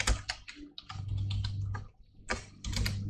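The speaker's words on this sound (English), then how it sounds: "So we're going to type in" Typing a command on a computer keyboard, a run of quiet, close key clicks in quick irregular rhythm, with no talk.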